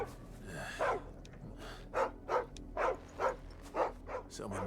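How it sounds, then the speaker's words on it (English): A dog in Final Fantasy XVI gives a whine and then a string of about seven evenly spaced, mid-loud barks, fairly close and without talk over them. "Doggo."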